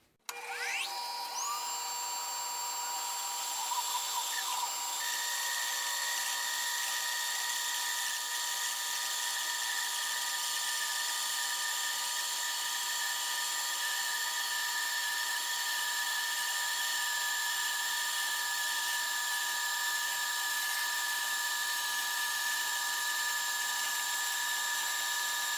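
A bandsaw cuts a wooden bowl blank with a Celtic knot cutting pattern, ringing as a steady, sustained high whine that holds at an even level for the whole stretch after a brief start-up.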